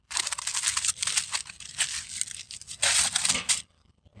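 Foil packets of pork ribs handled on a charcoal grill give a loud, continuous crinkling and rustling of foil for several seconds before it stops abruptly.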